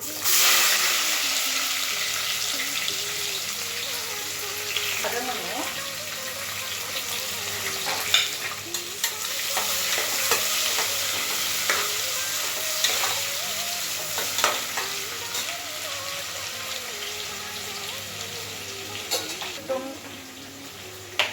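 Onions frying in a pan for mushroom biryani, a continuous bright sizzle with intermittent scraping stirs and occasional clinks of a utensil against the pan, close and steady throughout.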